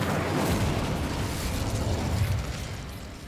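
An Incendio fire spell from Hogwarts Legacy erupts in a loud, sustained fiery burst with a roaring, explosive rumble that holds steady for several seconds before easing slightly at the end.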